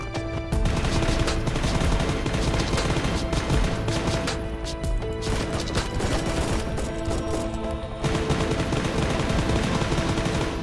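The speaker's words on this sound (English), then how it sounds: "There's people in front of us shooting." Rapid bursts of automatic gunfire from nearby players in the video game Knives Out crackle almost nonstop, loud and dense, with a brief lull before the shooting resumes; no one speaks.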